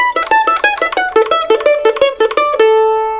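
Quick, bouncy plucked string notes tumble down a scale in a fast repeating pattern, ending on a single ringing note that slowly fades.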